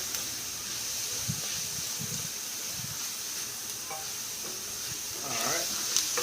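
Food sautéing in a pan on a stovetop at medium heat for Hungarian chicken paprikash, a faint steady sizzle with a few soft stirring scrapes, no voices.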